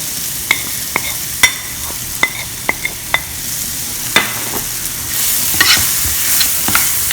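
Onions with spices and crushed mint fry in a pan as a spatula stirs them, sharp scraping clicks landing every half second or so over a bright continuous sizzle, close and clear, with no speech.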